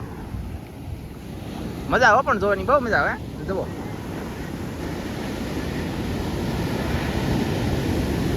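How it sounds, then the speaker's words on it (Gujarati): Stormy sea waves surge and wash over a shore in steady wind, a continuous rough roar throughout, with a person's excited talk briefly near the start. "એ એવો મોજો આવ્યો આમ જો અહીંયા પાણી કરી ગયું ધોઈને"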